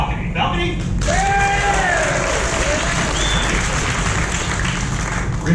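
An audience at a karaoke and comedy show aboard the Carnival Pride cruise ship applauds and cheers loudly, a steady roar of clapping with whoops and shouted voices rising above it.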